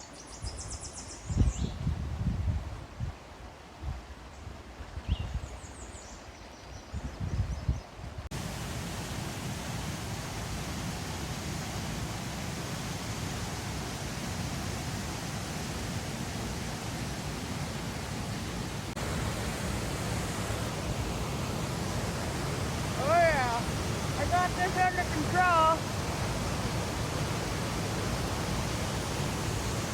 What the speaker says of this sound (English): I don't even know if you'll be able to hear me over the waterfall. It is crazy loud